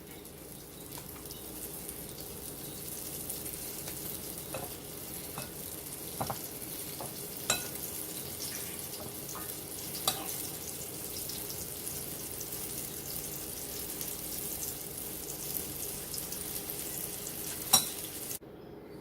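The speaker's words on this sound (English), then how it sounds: "You fry them about 5 minutes on each side" Marinated pork chops fry in a pan with a steady, quiet sizzle, broken by occasional sharper pops and crackles.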